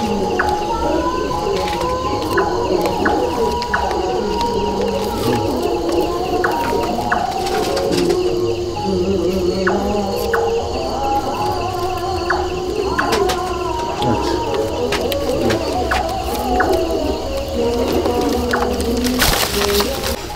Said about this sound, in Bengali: দেখুন পায়রা দুটো দেখুন।